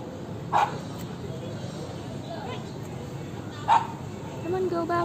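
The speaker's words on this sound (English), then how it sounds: "They're barking there." Dogs barking at a Vietnamese lake while being bathed, two short sharp barks a few seconds apart over steady outdoor noise, moderately close, with a person talking nearby.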